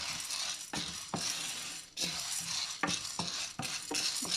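Puffed rice being stirred in a pot for Jaffna pori urundai, a series of dry rustling scrapes and light metallic clinks in uneven strokes, close and quiet with no talking.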